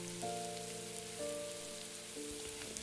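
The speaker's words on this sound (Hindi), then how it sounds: "एक मीडियम प्याज काट के डाल देंगे और इसको हल्का सौते करेंगे" Soft, steady sizzling of a chopped onion sautéing in a hot pan, a gentle continuous crackle with faint background hum.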